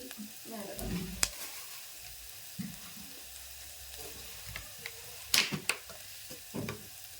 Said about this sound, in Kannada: ಉಳ್ಳಾಗಡ್ಡಿ ಫ್ರೈ ಮಾಡ್ಕೊಳ್ಳಿ